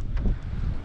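Strong wind buffeting the microphone while fishing outdoors, a low rumbling roar with gusty swells, close and continuous, with no talk.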